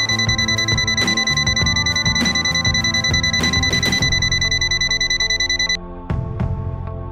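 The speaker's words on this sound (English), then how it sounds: "NCV non-contact induction, buzz a sound when voltage is sensed." ANENG Q10 multimeter in non-contact voltage detection mode, giving off a loud, steady electronic buzz with repeated pulses close by, cutting out near the end before a few shorter beeps and clicks follow.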